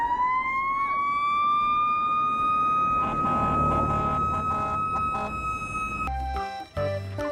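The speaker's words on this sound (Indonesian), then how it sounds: "Mobil pemadam kebakaran." A fire engine siren wails steadily and loudly for about six seconds, then cuts off into a few sharp clattering knocks.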